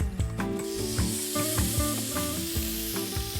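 Steak sizzles and crackles steadily in a hot pan, a loud close frying hiss with scattered pops and some faint clinks under it, continuous throughout with no talking.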